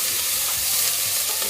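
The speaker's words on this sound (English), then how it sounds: "the onions are starting to brown up" Onions frying in a pan while being stirred, a steady, bright sizzle with soft scraping movements mixed in, close and continuous with no talking.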